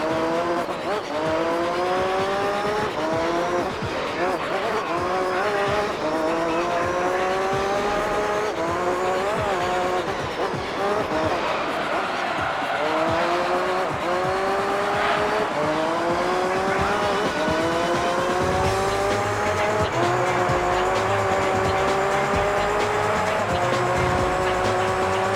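A GT1 race car in Gran Turismo 3 slides with its tires squealing. Its engine whines in steady rising sweeps through repeated gear changes, loud and close throughout, with occasional talk underneath.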